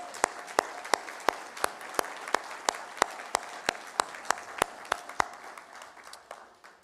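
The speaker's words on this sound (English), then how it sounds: "if we can give them a round of applause" Short burst of applause from a graduation ceremony audience, dominated by a few loud, evenly spaced claps near the microphone over a softer spread of clapping from the room, fading out at the end.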